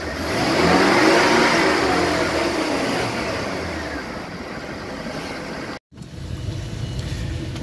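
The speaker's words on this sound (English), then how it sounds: "Just gonna rev it up here in neutral so you can hear it." A 2009 Harris Grand Mariner 250 SEL pontoon boat engine revs in neutral, a loud sustained roar that peaks early, eases slightly, then cuts off briefly before resuming at a steady level.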